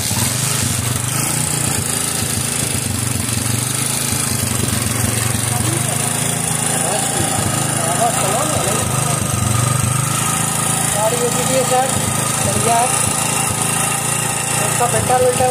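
A Kawasaki Boxer motorcycle with a starting problem, its small engine running with a steady, close buzzing putter throughout, with people talking over it.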